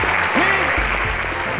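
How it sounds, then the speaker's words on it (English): Applause for teachers at a student program event, a short loud burst of clapping with a voice briefly speaking over it. "Please can we give a round of applause for our teachers?"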